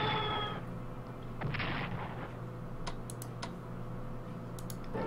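Artillery shells fire in the Strategic Command strategy game, sharp booming reports scattered over a steady low battlefield rumble with a few crisp clicks, no voices.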